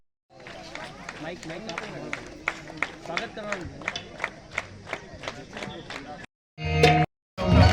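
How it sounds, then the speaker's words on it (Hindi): An audience at a rally applauds to welcome a guest, with loud rhythmic clapping and crowd noise lasting several seconds before cutting off, followed by brief bursts of louder sound. "उनका भी जोरदार ताली बजाकर स्वागत"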